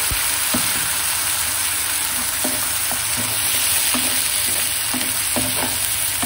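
Ground masala paste with green chillies frying hard in a pan for chicken curry, a loud dense sizzle with repeated scraping strokes of a spatula stirring it.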